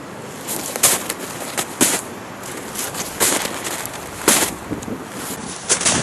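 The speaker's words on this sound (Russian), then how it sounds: "Крутой ветер, крутой." Strong wind on a snowy spring ski trek roars steadily, with sharp gusts battering the microphone every second or so; no one talks.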